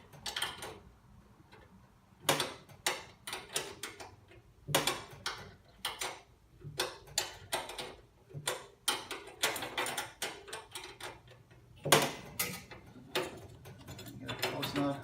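Open-end wrench working a nut loose on an Extractomat vacuum motor, giving a run of sharp metallic clicks and ratcheting taps in irregular bursts, close and fairly quiet, with no talking.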